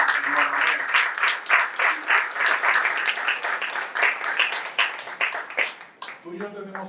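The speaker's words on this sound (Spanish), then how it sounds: "dame un aplauso, Señor" A church congregation bursts into rhythmic applause during a sermon, with loud, pulsing waves of clapping for about six seconds before a voice cuts in near the end.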